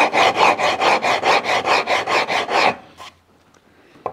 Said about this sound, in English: they cut in both directions, functionally doubling the cut capacity and speed of cut with the rasp itself